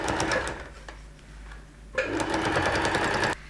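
A sewing machine stitches bound seams with a bias binding foot, running in a quick steady whir, pausing briefly, then running again close and clear with no talking.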